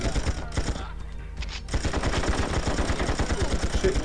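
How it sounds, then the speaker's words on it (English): Rapid video game gunfire rattles in dense automatic bursts, loud and close, pausing briefly near the start before resuming in a steady stream of shots to the end. "Start shooting."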